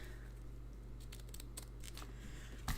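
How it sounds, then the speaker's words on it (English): Scissors snipping a corner off a piece of card for a card kit, several short crisp cuts in a quick run close to the microphone, then a louder rustle of the card at the end over quiet room hum. "cut that off and leave myself with a little bit on the top."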